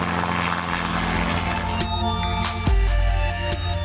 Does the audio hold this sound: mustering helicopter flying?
yes